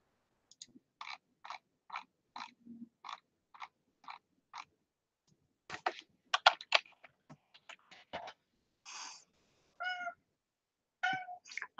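A cat gives a run of soft, short meows, evenly spaced and faint, followed by a few sharper, louder calls and scattered small sounds in an otherwise quiet room.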